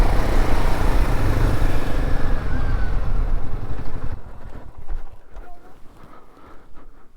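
A motorcycle on a ride from Jomsom to Pokhara via Muktinath in Nepal gives a loud, wind-buffeted engine rumble for about four seconds, then drops to a quieter running sound with voices talking.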